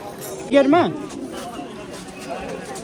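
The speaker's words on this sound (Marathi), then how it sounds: "भरपूर गर्दी आहे म्हणजे दाखवतो गर्दी किती आहे" A large crowd gathered for the evening aarti at Pashupatinath temple in Kathmandu, a steady murmur of many voices, with one nearby person speaking briefly over it.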